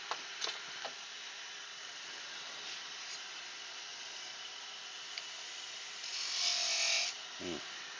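A tool cuts a slight chamfer on the end of an ash candlestick part, giving a faint, steady hiss that swells briefly near the end.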